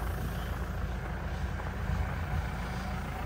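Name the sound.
tractor engine running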